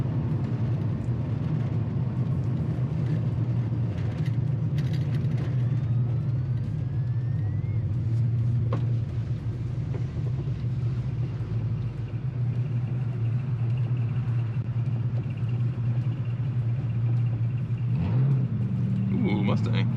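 A 1986 Chevy K10 truck rolls down the road with a steady, heavy low rumble of engine and tire noise that holds constant from start to finish, and a voice talks intermittently over it.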